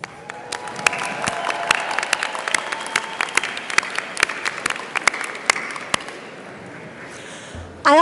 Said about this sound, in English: give them a thank you round of applause